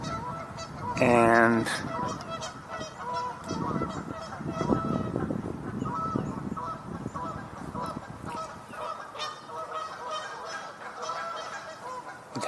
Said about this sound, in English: we just heard another Canada goose from elsewhere